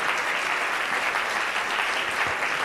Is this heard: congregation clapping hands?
yes